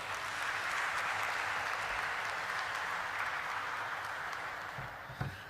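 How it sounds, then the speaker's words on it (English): A conference audience breaks into a sustained round of applause, a steady wash of many hands clapping that holds evenly for several seconds before tapering slightly at the end, with no voices over it. "with a huge round of applause"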